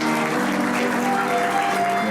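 Wedding guests in a hall applaud, a steady wash of clapping heard against sustained instrumental tones from a live trio playing underneath.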